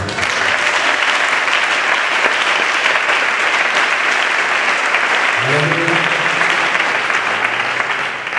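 Church congregation applauding during a French-language sermon, sustained dense clapping that fills the room for several seconds, with a voice speaking over it near the end.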